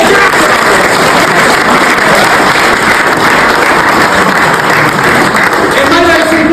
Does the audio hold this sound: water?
no